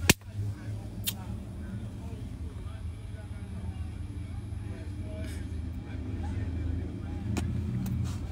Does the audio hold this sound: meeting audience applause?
no